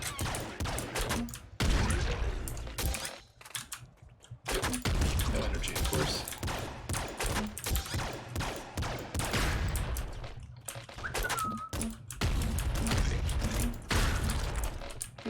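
Video game gunfire crackles in dense bursts through most of the stretch, with mechanical clanks and a small deflection ping as a bullet is blocked, loud and busy with brief lulls.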